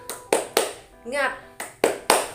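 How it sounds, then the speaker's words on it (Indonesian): Children in a classroom doing a rhythmic spirit clap, five sharp close claps in a pattern with a short spoken chant between them. "kita tepuk semangat terlebih dahulu ya"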